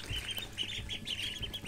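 Indian runner ducklings, half-grown and kept in a brooder, give a steady run of high, repeated peeping calls, close and fairly loud, with no one speaking.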